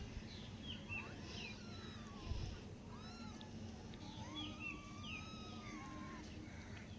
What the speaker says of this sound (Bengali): দেখো ও মা, কি সুন্দর ম্যাও ম্যাও করে ডাকছে।